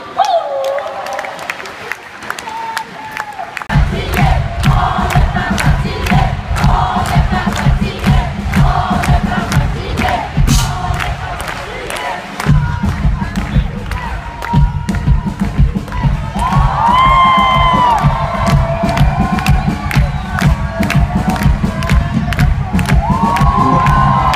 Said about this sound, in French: j'ai besoin de vous voir applaudir des mains